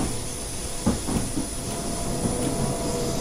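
Train Simulator locomotive pulling into a station on the UK Faversham to Rochester route: a steady hiss and low rumble with faint clicks of wheels over rail joints, running on its own at an even level.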